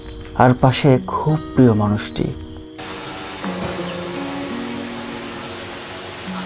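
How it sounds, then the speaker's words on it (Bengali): Crickets chirp at night at the Hill Touch hill resort, a thin, steady high trill that runs through a quiet background once a person's nearby speech in the opening seconds ends. "ঝিঝি পোকার ডাক"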